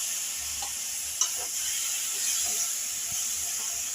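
Washed dried jawla shrimp fry in spiced oil while being stirred. A steady bright hiss of sizzling runs throughout with a few faint scrapes, close by, with no talking.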